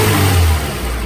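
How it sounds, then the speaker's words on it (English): A freshly installed Honda B16A3 engine revs hard in a car, loud and close, its roar holding high before easing back slightly. "That was the highest rev I've ever done with this engine."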